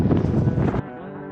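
Strong outback wind buffets the microphone in a loud, rough gust that drops off sharply partway through the short burst.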